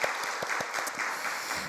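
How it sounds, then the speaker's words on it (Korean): A church congregation at a Wednesday worship service applauds with steady, sustained clapping that fills the room. "우리 하나님께 영광의 박수, 그리고 또 한 번 더 감사의 박수 드릴까요?"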